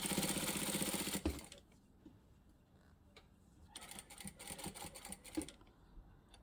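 A sewing machine stitches elastic in place in two bursts of rapid, even ticking, the first loud and the second quieter after a pause, with faint handling noise between them.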